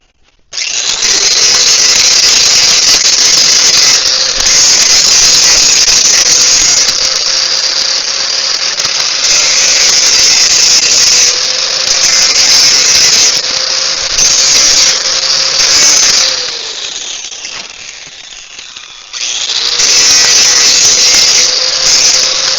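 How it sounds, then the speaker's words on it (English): A power tool scraping a steel rail on a 5x10 utility trailer before welding, a loud, steady high-pitched grinding whine held for about sixteen seconds, dropping off briefly, then starting up again near the end. "I'm just going to lightly give it a scraping, just to make sure I get a clean weld."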